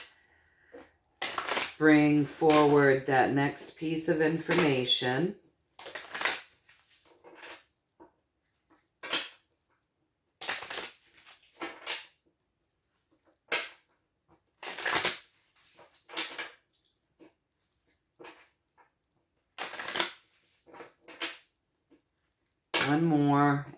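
Tarot cards are shuffled in a run of short, crisp riffles and taps, scattered and close by after a person finishes speaking at the start.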